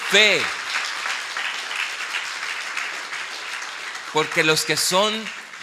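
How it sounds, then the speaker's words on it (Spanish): Applause from a church congregation during a sermon, steady clapping running throughout while a preacher's voice rises over it at the start and again near the end. "Vamos a darle otro fuerte aplauso al Señor"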